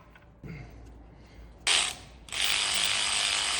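A ratchet loosens valve cover bolts on the Cummins engine of a 1996 Dodge Ram 2500, with a few faint clicks and then loud, close ratcheting bursts of rapid clicking, with no talk.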